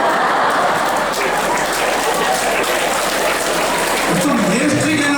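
An audience at a personality development workshop claps together in sustained, dense applause that stays loud and even throughout.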